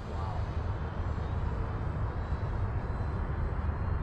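An RC model Spitfire MK.IXc with a 1600mm wingspan flies at half throttle, its engine a steady, continuous drone heard from a distance against outdoor wind rumble, with no talk.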